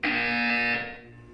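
A loud buzzer sounds in the video game Portal 2, one sustained harsh electronic tone that holds steady, then cuts off and leaves a faint hum.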